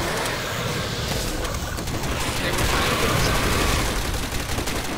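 Video game gunfire in a Call of Duty Zombies match on the Der Riese map, a whole magazine emptied in a dense, continuous stream of shots under a thick wash of game noise.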